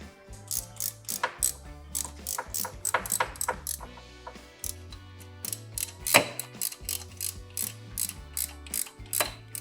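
Sharp metallic bangs and clanks ring out in irregular bursts, mixed with ratcheting clicks from hand tools on motorcycle transmission top cover bolts, close and fairly loud.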